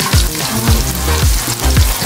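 Garlic frying loudly in a hot pan for pad see ew, a steady close sizzle with rhythmic stirring or scraping strokes about every half second.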